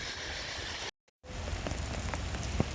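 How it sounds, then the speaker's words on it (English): A rain shower falls in the Arizona desert, a dense steady hiss of drops on surfaces with scattered louder close splatters, broken by a brief silent gap. "The rain just got a little heavier now."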